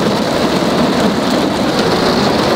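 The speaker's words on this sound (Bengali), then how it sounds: "অনেক জোরে জোরে বৃষ্টি পড়তেছে শুনতে পারতেছেন" Heavy rain pours steadily during a car trip toward Mawa Ghat on an expressway in Bangladesh, a dense, continuous, loud hiss of rainfall with no talking.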